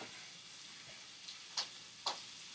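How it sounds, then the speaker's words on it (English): Faint, soft sizzling of bacon in a pan with a couple of sharper pops or clicks near the end, quiet and without talking. "you can hear that sizzle in the background"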